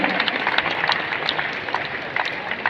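Dense, steady applause from a sizable audience welcoming Delhi's environment minister at an outdoor plastic-alternatives fair in Delhi, continuous broadband clapping with a few louder individual claps standing out.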